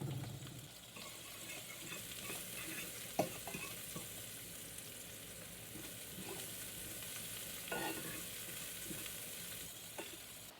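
Carrots and onions frying in a pan, a steady crackling sizzle throughout with occasional sharper clicks and scrapes as they are stirred, no voices.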